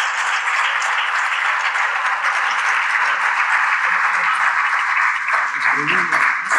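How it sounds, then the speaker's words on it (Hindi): A packed audience at an Urdu poetry mushaira in Doha, Qatar, gives sustained, full applause welcoming poet Abbas Tabish, a steady roar of clapping with a voice surfacing faintly near the end. "मैं चाहता हूँ पुरजोर तालियों के साथ उनका इस्तकबाल हो।"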